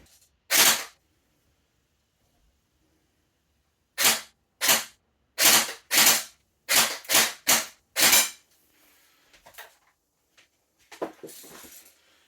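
Airsoft gun shots fired through an ACETECH AC6000 chronograph, sharp close snaps: one single shot, a pause, then a quick run of seven, followed by faint handling noise and a final softer rattle.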